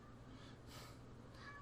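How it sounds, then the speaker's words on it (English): A house cat meows faintly in the background, with a couple of drawn-out, wavering cries spread over a second and a half. "My cat can shut up right now, please."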